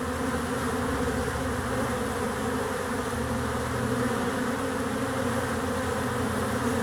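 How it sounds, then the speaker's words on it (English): Dense, steady buzzing of many honeybees at a hive entrance in spring, close and continuous throughout with no voices. "Look at all those fresh bees going out."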